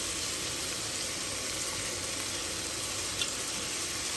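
Tomatoes fry in a pan for a spicy chicken dish, giving a steady, even sizzle and hiss throughout with no break and no voices.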